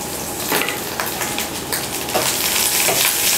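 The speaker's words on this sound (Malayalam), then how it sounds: "ഈ തേങ്ങ നല്ലതുപോലെ ഒന്ന് മൂക്കണം, അതായത് ഒന്ന് ഗോൾഡൻ ബ്രൗൺ നിറം ആവണം" Grated coconut, shallots and dried red chillies frying in oil in a pan for Kerala-style raw banana erissery, a steady close sizzle with crackling pops throughout, no talking.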